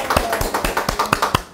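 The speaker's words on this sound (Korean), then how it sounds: "박수 한번 주세요. 박수." An audience at a motivational mentoring talk applauds with quick, evenly spaced claps, around a dozen sharp hits close together in under two seconds.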